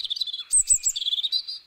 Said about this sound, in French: Dans Paris intramuros, la population de rouge-gorge familier est en nette augmentation.